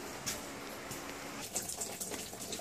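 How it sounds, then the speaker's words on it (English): Water leaking down into a basement onto aquariums splashes and trickles steadily, with intermittent drips and faint gushing at moderate distance. "Not only is the water coming down here"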